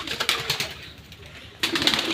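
Silver Bagha pigeons cooing at close range, low throaty coos in short bursts with a quieter gap in the middle, no talk.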